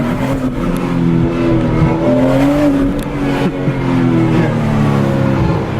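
A BMW 340i fitted with an Agency Power intake revs its engine loudly and up close, the tone rising and falling in several pulls against a continuous drone.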